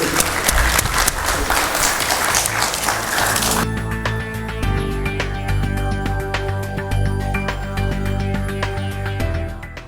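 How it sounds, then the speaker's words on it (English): A crowd at a startup pitch competition applauds the second runner-up, a dense burst of clapping that gives way to loud music with a steady beat and sustained tones, with scattered claps continuing over it. "Big round of applause for Simply"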